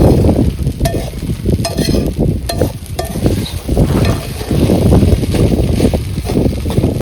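Khichdi is stir-fried in village-made ghee at a shepherds' settlement, giving a loud, steady sizzle broken by scraping and stirring clatter, with some wind noise.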